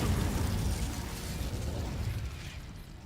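An Incendio fire spell cast in the Hogwarts Legacy video game erupts as a loud, close burst of fiery whoosh that gradually fades over a few seconds.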